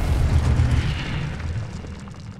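A Confringo spell explodes in Hogwarts Legacy with a deep rumbling boom that swells and slowly decays over a couple of seconds, loud and close.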